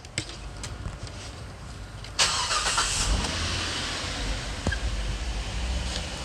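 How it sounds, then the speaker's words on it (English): A 2.7L V6 all-aluminum car engine is started after quiet cranking-room ambience: an abrupt catch at about two seconds, then a steady, fairly loud running drone with small bumps. "Now let's start the car."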